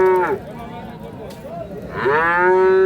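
A six-tooth Holstein Friesian dairy cow at a farm in Munshiganj, Bangladesh, moos twice, loud and close, with a long harmonic low at the start and again near the end, a quieter gap between.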